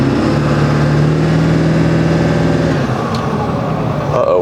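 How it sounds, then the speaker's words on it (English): Ford F-250 Super Duty with a 7.3 L Powerstroke diesel revving, a loud close engine drone rising in pitch and holding before dropping back toward idle. "Give it a little rip here."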